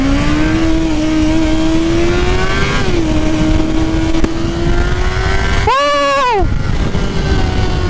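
A Honda CBR 650R motorcycle engine drones loud and close with a rising tone, then revs sharply in a quick climb and drop before settling back to a steady pull.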